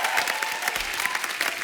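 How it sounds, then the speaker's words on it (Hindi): Steady applause from a TV comedy show studio audience, dense clapping filling the whole stretch at a fairly even level with no voices standing out. "जोरदार तालियां हो जाए।"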